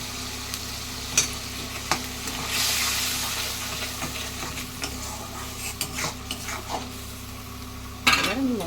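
Tomato paste and salt go into spices frying in a pan and get stirred, with a steady sizzle, a burst of hiss, and a few sharp scraping taps of a spoon against the pan.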